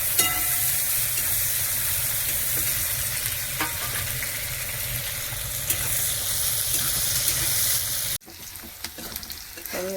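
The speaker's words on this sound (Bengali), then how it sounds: "পেঁয়াজটাও ভালো করে ভাজা হয়ে গেছে" Onions sizzle and crackle steadily in a hot pan for a fish curry, a dense close frying hiss with occasional stirring scrapes, cutting off sharply near the end to quieter pan clatter.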